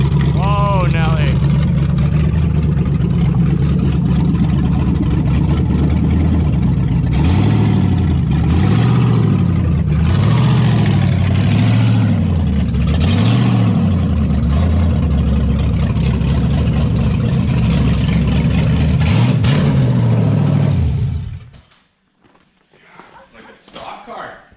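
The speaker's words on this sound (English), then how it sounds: "That's how your stock car could sound, Mike." A Ford Mustang with no exhaust fitted revs repeatedly and loudly up close, with the engine note rising and falling in several surges over a rough idle before it abruptly cuts out. People talk over the engine.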